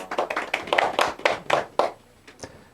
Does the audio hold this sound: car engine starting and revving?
no